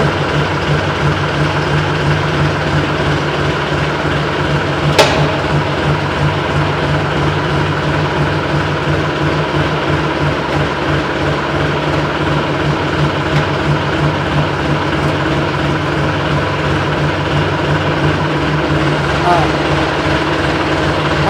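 A new-model Massey Ferguson 254 DI tractor runs with a steady, loud diesel drone and a low rhythmic throb, with someone talking over it throughout.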